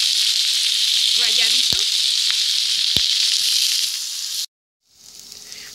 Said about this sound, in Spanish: Vamos a poner los bisteces a freír por 2 minutitos nada más.